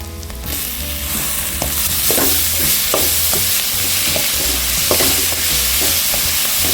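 Tomatoes sauté in a hot oiled pan for Kerala kadala curry, a loud, steady sizzle close up with occasional scrapes and clicks of a stirring spoon.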